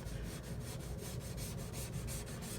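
Hand sanding on the arched back of a 1965 Vox Apollo IV bass guitar: a steady, close, rhythmic back-and-forth rasp of sandpaper on the finish, with no voices.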